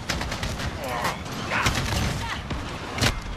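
Game gunfire from an AK assault rifle in Modern Warfare, Road to Damascus, during a sandstorm: scattered shots and bursts in a dense, noisy mix, with one louder crack near the end.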